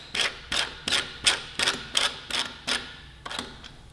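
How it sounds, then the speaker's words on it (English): A T-handle with a 10mm socket spins down bolts during a fender eliminator install on a 2018 Suzuki GSX-R1000, giving about ten evenly spaced ratcheting clicks, close and fairly quiet. "Now we're going to use a T-handle with a 10mm socket. I'm going to run these down just a little bit."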